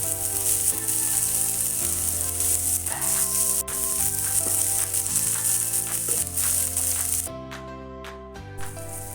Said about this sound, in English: Now into the same pan, I'm adding a little bit of oil. We have to fry the onion.